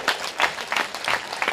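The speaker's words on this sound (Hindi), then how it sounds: "तुम ताली ठोको अपने लिए" An audience at a spiritual gathering claps in five rhythmic bursts, crowd applause swelling and fading at a steady beat.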